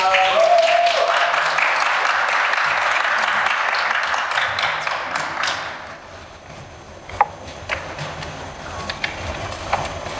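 Applause from an audience at a Hangul Day speech contest, welcoming the next presenter; a burst of clapping that is loud at first, then thins to scattered claps and fades out.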